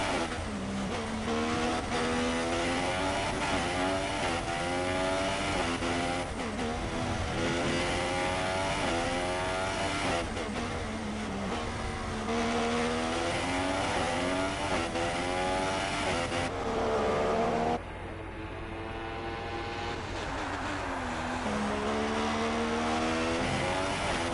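F1 cars in a racing video game with a slow McLaren on the inside at the Abu Dhabi Grand Prix: layered high engine whines rise and fall continuously, dense and loud, dropping briefly near the end before resuming.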